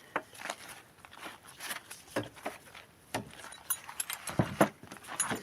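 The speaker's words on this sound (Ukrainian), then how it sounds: "Ключі це ще тут не всі." Metal keys jangle and clink in short, irregular bursts, close by, with brief pauses between shakes and some light handling rustle; tool keys (spanners) for a Minsk motorcycle.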